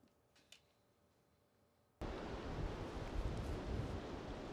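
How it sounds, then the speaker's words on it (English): Strong wind buffets the microphone outdoors, a loud, steady roaring rush that starts abruptly after a quiet moment and continues without talk. "That's how fucking crazy windy it is out right now."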